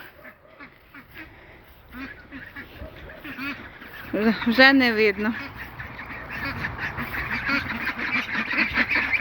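Ducks quack in a loud burst close by at sunset after their evening feed, with scattered calls before and a steady murmur of birds after; a person speaks briefly at the start.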